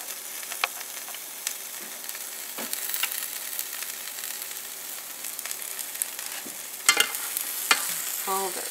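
A cheese and spinach flatbread fries in a pan, giving a steady close sizzle with faint scrapes and a few louder clatters near the end, with no talking.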